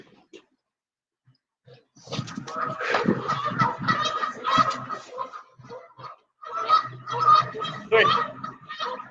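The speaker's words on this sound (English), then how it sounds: "Some geese." A flock of geese honking loudly and close by, overlapping nasal calls in busy bursts after a brief quiet start, with a short pause before the honking picks up again.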